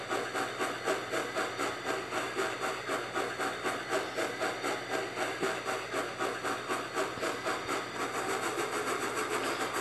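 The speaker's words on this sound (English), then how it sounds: "developers of the game, add more tank engines!" A tank engine runs in a train video game, with a steady loud rhythmic chuffing and hissing that repeats evenly throughout over a continuous mechanical drone.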